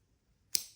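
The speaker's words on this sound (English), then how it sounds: "just get your scissors, snip off, pull" Scissors snip through crochet yarn once, a single crisp close cut with a short fading tail after near silence.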